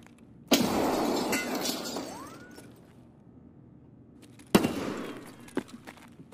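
A frag grenade blast in Escape From Tarkov hits with a sharp crack and a shattering, debris-filled rumble that fades over about two seconds. A second loud burst follows a few seconds later with scattered smaller cracks.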